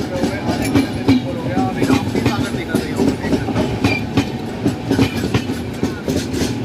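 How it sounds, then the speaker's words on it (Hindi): An express train rushes past at speed on an Indian railway line, its wheels beating out a rapid clickety-clack with a heavy rumble that stays loud throughout, while voices murmur faintly underneath. "ट्रेन आई स्पीड में निकल गई"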